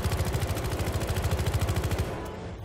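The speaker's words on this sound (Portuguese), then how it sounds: "vamos atirar nesse aqui então" Automatic gunfire at the weapons range in the video game Battlefield Hardline: a loud, rapid, even burst of shots lasting about two seconds, then cutting off abruptly, with no talking.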